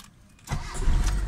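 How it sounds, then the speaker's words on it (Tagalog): A car engine cranks and catches on a single turn of the key after an ignition coil supply fix at the distributor, a short click followed by the engine rumbling into a steady close idle. "one click lang tong sasakyan ko"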